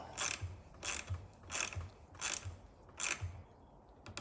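A rivet nut tool tightens a nut rivet into the hardware of a Westcoast Saw universal port, giving five evenly spaced bursts of close, ratchet-like clicking with short pauses between strokes.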